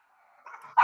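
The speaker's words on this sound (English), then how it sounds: "dogs" A dog whines faintly and then barks once sharply at the end, the bark loud and close after the quiet whimpering.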